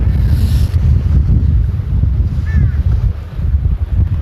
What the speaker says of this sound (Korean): 바람이 점점점 세지고 있습니다